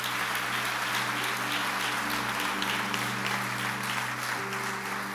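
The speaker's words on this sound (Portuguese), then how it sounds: "Aplauda ao Senhor em nome de Jesus." A church congregation applauds steadily, a dense wash of many hands clapping with a low electronic hum running beneath.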